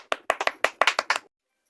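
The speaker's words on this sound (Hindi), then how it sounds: "ताली" Roughly eight distinct hand claps in a quick, slightly uneven sequence from a small audience at a quiz show, close and crisp, then silence.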